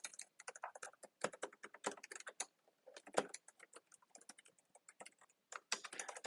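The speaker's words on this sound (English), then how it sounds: "the test with the original AirPods Pro while typing on a keyboard" Quiet, rapid typing on a computer keyboard, picked up through original AirPods Pro during a call, irregular bursts of key clicks with short pauses, close by and with no voices.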